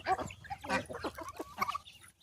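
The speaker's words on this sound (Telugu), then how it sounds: "చూడండి బాతు పిల్ల" Small bird calls and peeping chirps from a duckling, several quick bursts close to the listener with short gaps between them.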